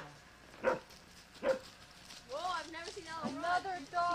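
A new dog on a farm gives a few short barks and yips, with people talking over and between them.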